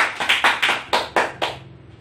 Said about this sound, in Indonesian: Beri aplaus kepada Windy